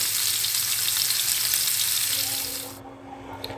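Steady sizzling of chicken drumsticks frying in a pan, loud and close, with the hiss dropping away near the end as the heat eases.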